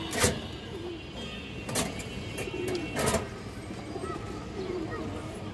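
Giribaz pigeons coo softly with low, wavering calls amid the noisy bustle of a pigeon sale, with a few sharp clacks and ambient hubbub around them.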